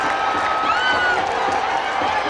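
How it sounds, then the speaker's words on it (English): Stadium crowd roaring after Bangladesh scores a goal in a women's U-20 football match against Nepal, a dense sustained cheer with whistles and shouts throughout, under commentary. "The crowd in jubilation."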